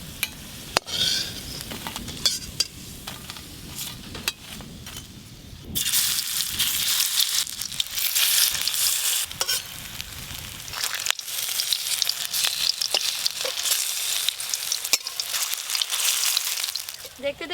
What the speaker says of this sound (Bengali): লাউ শাকের বড়া ভাজা হয়ে গেল, তুলে নেব এবার